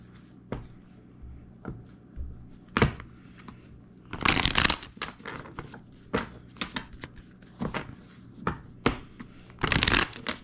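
Tarot cards being shuffled by hand, with rapid papery riffles and soft slaps in bursts, a longer louder flurry near the middle and another at the end, close and fairly quiet.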